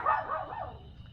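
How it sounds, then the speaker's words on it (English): A dog barks and yips in short bursts close by, fairly quiet, in an indoor room with no speech over it. "No barking."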